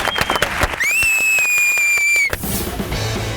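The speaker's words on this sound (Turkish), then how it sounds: "Bir alkış alabilir miyim yarışmacılarıma?" A small street crowd claps for contestants at a hot pepper eating contest, quick uneven hand claps broken by sharp repeated pulses and a steady tone, outdoors and close.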